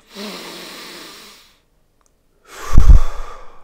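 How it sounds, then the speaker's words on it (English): Deep diaphragmatic breathing by a person demonstrating belly breathing: a long, steady breath of about a second and a half, a pause of silence, then a louder, heavier breath close to the microphone. "So that's a diaphragmatic breath."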